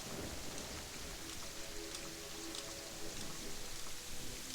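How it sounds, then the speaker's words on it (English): Rain falls in the video game Terraria, a dense, continuous hiss of drops with faint rumbling underneath, steady throughout and free of speech. "So it's raining up here"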